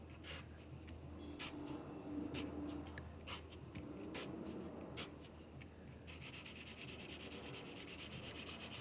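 Pencil scratching across paper while drawing perspective boxes, a steady run of short rubbing strokes with a few sharper taps, close and fairly quiet, with no talking.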